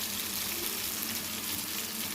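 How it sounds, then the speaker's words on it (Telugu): Cumin seeds splutter in hot oil, making a dense, continuous hissing crackle that holds at an even level throughout, close up with no voices. "నూనె వేసి నార్మల్గా జీలకర్ర వేసానండి, చెటపట్లు ఆడిస్తున్నాను"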